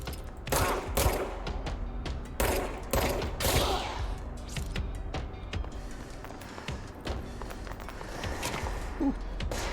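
Gunfire in the video game Control, several sharp bursts of shots in the first few seconds followed by quieter scuffling movement and ambient noise, with no talking.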